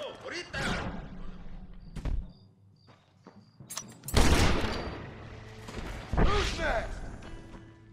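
Several sharp gunshot bursts with heavy thuds from the Deadeye mechanic in the Red Dead Redemption video game, loud and close, separated by short quieter gaps, with a voice speaking over parts.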